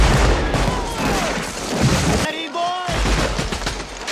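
Battle gunfire from the Civil War film Glory, dense volleys of rifle shots and booms crackling continuously with a brief lull, mixed with shouting voices.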